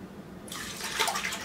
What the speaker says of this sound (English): Okay, that's cooled down enough that I can pour the whole thing in here.